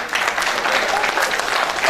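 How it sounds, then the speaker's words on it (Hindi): An audience at a cultural meet in Chandigarh applauds after a dance performance, a brief, full burst of clapping with some voices mixed in. "एक बार जोरदार तालियों के बीच में"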